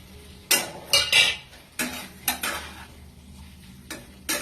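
Fried chopped egg stirred into figs in a pan, a spoon clacking and scraping against the metal in irregular close taps with a faint sizzle between strokes.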